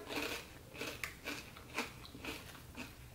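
Rice chips made only of rice, oil and salt being bitten and chewed, giving a series of close, crisp crunches about every half second, fairly quiet overall.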